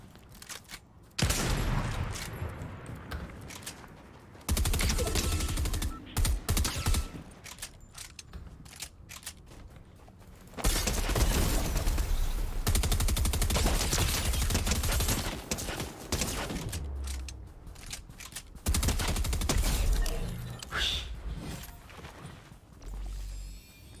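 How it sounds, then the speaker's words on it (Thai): Rapid bursts of SMG fire in Fortnite's No Building mode, several loud sustained volleys with short pauses between them, close up and dense with crackling shots. "ยิงยากมากเลย SMG อ่ะ"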